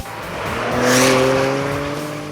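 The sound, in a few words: SUV driving fast around cones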